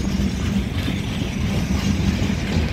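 CSX freight Q360-7 led by locomotive CSXT 3094, an ESC44AC-H, passing west of Oxford, Ohio: a loud, steady low rumble of rolling cars with faint rhythmic clatter.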